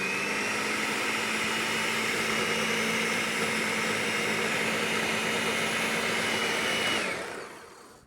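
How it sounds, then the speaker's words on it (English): A blender blitzing pureed white beans and eggs for cookie dough, a loud steady whirring roar held for several seconds before winding down and fading at the end. "I'm gonna add 2 eggs here, and we're gonna kind of get that really nice and blitzed"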